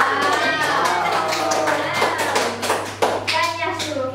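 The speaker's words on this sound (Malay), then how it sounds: "So tepuk tangan." Children clapping their hands in a classroom, a quick burst of claps mixed with kids' voices and chatter, fairly close and lively under ongoing talk.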